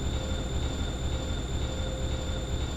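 A KONE elevator from a video game travels between floors, giving a steady, even mechanical rumble with faint high whines that carries on throughout, with no talking.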